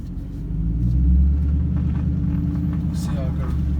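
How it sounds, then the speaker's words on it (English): Car driving over a bumpy road, a steady loud low engine and road rumble with the cabin shaking and rattling, swelling slightly early on and holding constant throughout. "the car shakes a lot"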